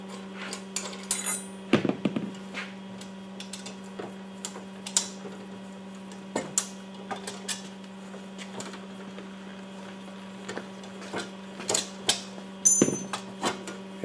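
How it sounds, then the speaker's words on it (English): Wing nuts are taken off the locating bolts of a MultiCut balanced-drive cutting machine, giving scattered light metallic clinks and taps over a steady electrical machine hum. "we'll take our wing nuts off our locating bolts."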